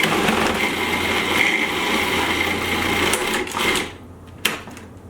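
Food processor blending almond butter with mixed fruit, a loud continuous motor whir running for several seconds, then cutting off abruptly, followed by a single clunk.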